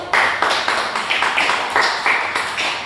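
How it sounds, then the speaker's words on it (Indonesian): A classroom of students claps together in a microteaching lesson, a short run of about ten sharp, fairly rhythmic claps, close and loud, with no speech. "Oke, tepuk tangannya dong."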